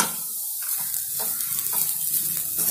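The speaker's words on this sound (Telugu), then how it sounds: "ఇప్పుడు కొద్దిసేపు మంచిగా కలుపుకోండి" Potato fry with garam masala and chilli powder being stirred in a pan, a brief close sizzle with a few quick scraping strokes, no talking.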